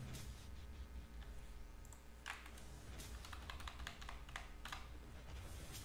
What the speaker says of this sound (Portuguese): Eu tenho que seguir o ritmo aqui do clique do M de acordo com o que vai mudando